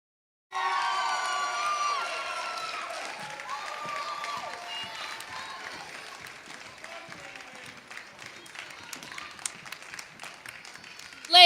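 An audience at an annual Inner Beauty pageant breaks into loud applause and cheering for the pageant court, with clapping and shouts that slowly thin out over several seconds.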